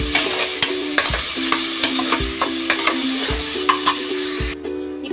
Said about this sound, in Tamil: இப்போ இதை நல்லா வதக்கிட்டு வந்துடலாம்.